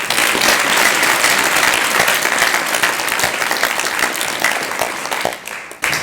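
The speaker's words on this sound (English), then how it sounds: "Give yourselves a round of applause." A crowd at the Dancers Give Back charity dance event breaks into loud, dense, sustained applause that fills the whole stretch and thins slightly at the very end, with no talking.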